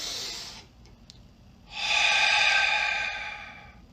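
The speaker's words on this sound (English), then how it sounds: "take a deep breath through your nose" A deep inhale drawn through the nose, a long steady airy rush lasting about two seconds, close and fairly loud, preceded by a shorter breath sound, with no talking.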